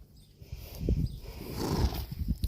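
Horses at a horse farm with Hanoverian mares, a whinny mixed with shuffling hooves and stable noise, moderately close and steady, with no talking.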